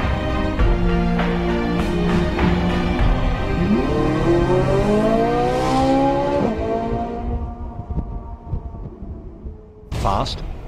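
A Ferrari 458 Italia engine revs high and climbs steadily in pitch as it accelerates, loud and close, then drops away with a brief sharp burst at the end.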